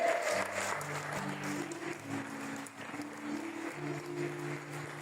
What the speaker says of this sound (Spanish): Recibe la gloria y un fuerte aplauso de tu pueblo.